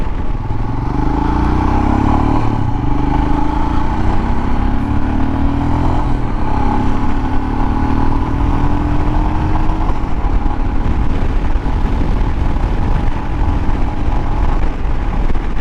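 A Royal Enfield Himalayan motorcycle is ridden onto a faster road in winter, its engine droning steadily with a slowly rising pitch as it accelerates, under continuous wind rush and without talk.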